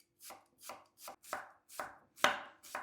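A knife chops an onion steadily on a board, about seven crisp, evenly spaced strikes, close and clear with no talking.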